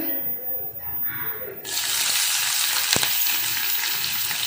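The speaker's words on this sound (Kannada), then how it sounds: "ಸಾಸಿವೆ ಮತ್ತು ಜೀರಿಗೆ ಚಟಪಟ ಆದಮೇಲೆ" Mustard seeds and cumin frying in hot oil in a home kitchen. A low murmur gives way midway to a loud, steady crackling sizzle that runs to the end. No speech.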